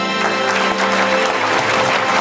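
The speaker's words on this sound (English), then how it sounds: "Please applaud Jason Morgan, Augustus Love Medal." An audience applauds at the EGU 2016 award ceremony as a medalist is called to the stage: dense, continuous clapping that fills the hall evenly and loudly from start to finish.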